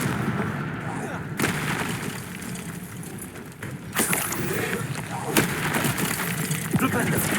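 A Confringo blasting spell in Hogwarts Legacy goes off as a few sharp explosive cracks amid continuous game combat noise, close and fairly loud.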